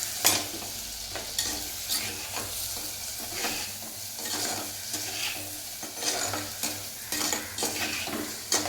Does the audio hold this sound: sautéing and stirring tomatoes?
yes